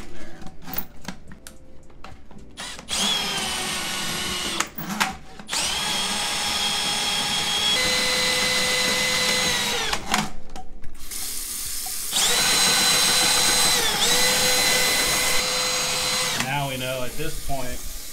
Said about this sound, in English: This is just a drill snake. This is a cheap Home Depot one you can get, and there's a drill attached to it.